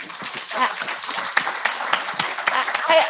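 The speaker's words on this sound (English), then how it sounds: "That deserves a round of applause, everyone." An audience claps steadily for a few seconds, a dense crackle of many hands at moderate volume.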